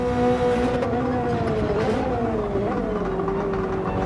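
Subaru BRZ race car engine at Laguna Seca in Gran Turismo 7, revving loudly and continuously with rising and falling harmonic engine tones as gears shift, steady and close throughout with no talking.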